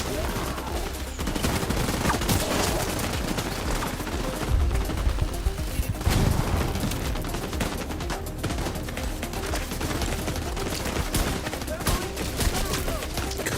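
Gunfire in the video game The Division 2 rattles on in dense, loud bursts and sustained volleys, filling the whole stretch with little letup.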